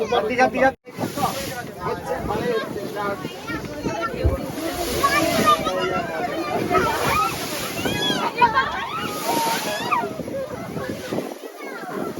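Waves of the Bay of Bengal off the Sundarbans, heard from a boat: a continuous wash of sloshing water and wind noise, with people talking over it.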